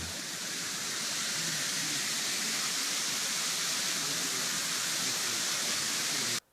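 Cool flowing water rushes in a steady, dense, full wash of sound that stays constant throughout and then cuts off abruptly at the end, with no voices.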